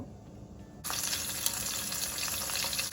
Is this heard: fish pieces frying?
yes